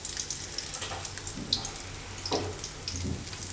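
Turiya (ridge gourd) and chili pakoras frying in hot oil, a continuous crackling sizzle with scattered pops and a couple of louder splutters, close up and with no voices.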